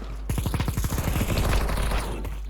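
Rapid burst of video game gunfire, dense repeated shots running almost without a break, loud and close, with no talk over it.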